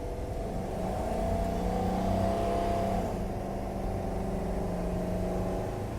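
A Thor Axis motorhome cruising at highway speed, about 75 mph, on a smooth road, giving a steady, continuous engine and road drone with low rumble throughout, no talk over it.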